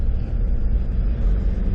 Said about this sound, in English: It's the first time she's actually driven the patrol with a trailer